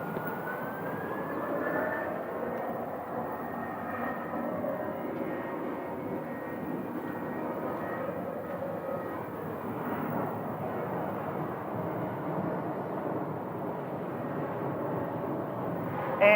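Aircraft engines at Phoenix airport drone steadily and close for the whole stretch, a continuous loud roar with a faint rising whine near the start, as a plane is readied for pushback.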